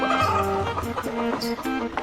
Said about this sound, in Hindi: लकड़हारा मुर्गी की तरफ इशारा करता है।